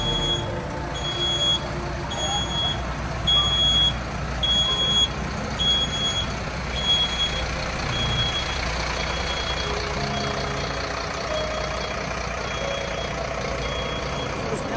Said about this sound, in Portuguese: O caminhão vai sair aqui